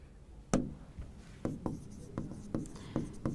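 Chalk or marker writing on a board in a classroom, a series of sharp taps and short strokes at irregular intervals, close and fairly faint, with no talking.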